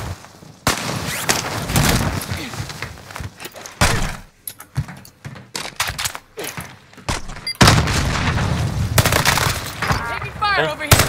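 Gunfire and heavy thuds in a squad-based battle royale shooter on the Caldera map, coming in sharp, loud bursts with short gaps between them, mixed with voices talking over the action.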